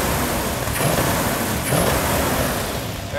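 A car engine with a very large cam revving loudly up close, a steady throaty roar that swells twice as the throttle is blipped.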